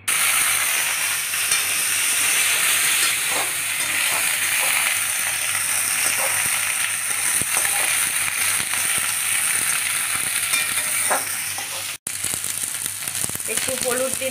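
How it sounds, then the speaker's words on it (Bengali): Pointed gourd (potol) frying in oil in a wok, a loud, steady sizzle with light crackle and occasional stirring scrapes running throughout, briefly cut near the end. "এবার পটলটা ভাজবো।"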